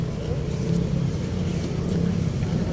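Steady low engine rumble and road traffic noise from inside a PUJ jeepney crawling through slow, congested traffic in Agusan del Norte during a national rally, a continuous mid-level drone throughout.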